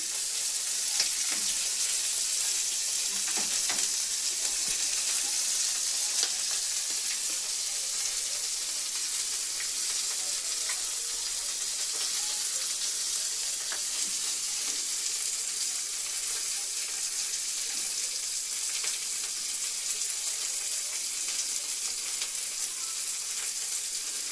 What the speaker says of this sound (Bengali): পেঁয়াজ রসুন লঙ্কাটা ভাজা হচ্ছে